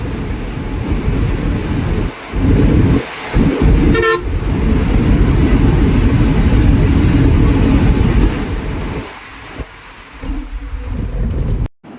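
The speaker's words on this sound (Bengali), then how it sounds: "আপনাদের আমি আর কি ইঞ্জিনের সাউন্ড আর কি শোনাচ্ছি" An R.B Travel local bus engine runs loud and close, a continuous rumbling roar that dips briefly a few times, with a short horn toot early on and the sound cutting off at the end.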